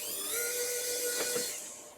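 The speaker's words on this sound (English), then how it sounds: "It actually charged my screwdriver." A cordless electric screwdriver whirs steadily while removing screws from a Commodore 64 case, a continuous high motor whine lasting about two seconds, close and fairly loud with no talking.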